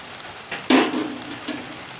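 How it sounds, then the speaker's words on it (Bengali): Chicken soup stock water hits a hot pan with a sudden loud hiss and sizzle that swells and then slowly fades over a steady background frying crackle. "এখন এর মধ্যে দিয়ে দেবো জল বন্ধুরা।"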